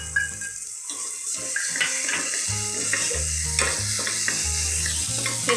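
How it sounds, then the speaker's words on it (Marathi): Ginger-garlic paste and green chilies sizzling in a pan for dal khichdi, a loud continuous frying hiss, with background music and water-like clatter throughout. "हे सगळं साहित्य भाजतो"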